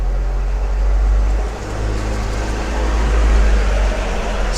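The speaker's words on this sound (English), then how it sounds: "Excuse the background noise, this is a busy road." Loud, continuous roar of heavy traffic on a busy road, with a deep low rumble that swells and dips as vehicles pass, steady throughout with no voices.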